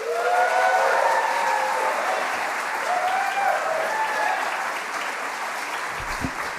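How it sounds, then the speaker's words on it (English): Audience applause at the opening session of a fall professional development day, welcoming a board of trustees president to the stage; sustained, fairly loud clapping from a sizable crowd that gradually thins toward the end. "Now, please help me welcome Alton Wang, our Board of Trustees president."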